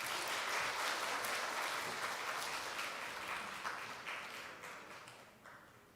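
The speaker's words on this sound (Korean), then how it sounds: "우리 축하의 박수 한번 치겠습니다." Congregation applauding during a Sunday morning church service, a broad wash of many hands clapping that starts strong and gradually fades toward the end.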